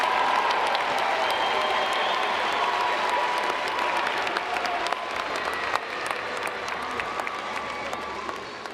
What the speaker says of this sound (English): Let's recognize the graduates of the Humanities and Sciences Division with a final round of applause